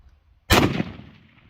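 A single sharp crack from a Mossberg Patriot LR bolt-action rifle on an outdoor long-distance range at Gunsite, loud and close, with a brief rumbling tail fading over about a second, no talk.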